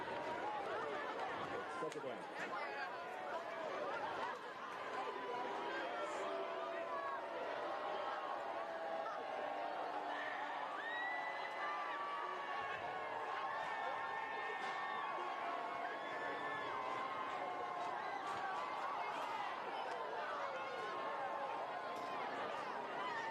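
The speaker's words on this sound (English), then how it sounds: "Allegheny brought a huge crowd." A large crowd at a high school football game between Allegheny and Greenbrier East fills the stands with continuous distant chatter and scattered cheers, heard under a commentator's voice throughout.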